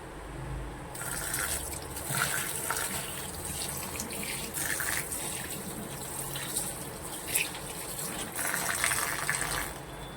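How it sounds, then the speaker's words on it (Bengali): Steady tap water runs and splashes while whole cumin and coriander seeds are rinsed under it, a continuous close gush with small fluctuations and no voices. "গোটা জিরে গোটা ধনে এগুলো ভালো করে ধুয়ে নেবো"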